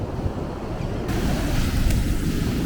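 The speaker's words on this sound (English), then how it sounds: "It's just the ocean." Ocean surf washing onto the shore at Edisto Beach, South Carolina, a steady close rumble of breaking waves with wind buffeting the microphone, swelling louder partway through.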